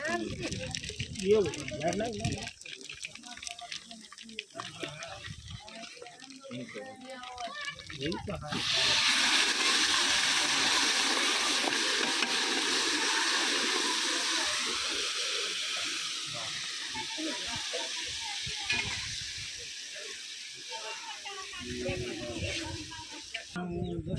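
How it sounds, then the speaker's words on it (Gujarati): A loud, steady steam-like hiss of sizzling tempering for Gujarati steamed vegetable curry rises suddenly and holds for several seconds, with voices talking before and after. "લાગી રહ્યો છે વરાળિયા શાકનો વઘાર"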